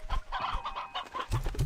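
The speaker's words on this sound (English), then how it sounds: "Also, many chickens as well. Like, lots of the chicken." Chickens in the Slime Rancher video game cluck in quick, close bursts, several birds overlapping in a lively, fairly loud farmyard chatter with no talking.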